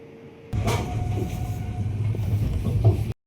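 Kanchankanya Express passenger train running along its tracks, a steady low rumble and rattle of wheels and carriages heard from inside, with faint clicks over roughly three seconds and no talking.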